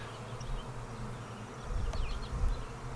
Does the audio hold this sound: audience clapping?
no